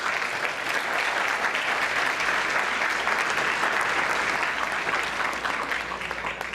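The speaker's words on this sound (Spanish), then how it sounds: "Les pido por favor un aplauso para ellos." Studio audience applauding guests on a Spanish-language television program, even continuous clapping for several seconds that eases slightly at the end, with no talking.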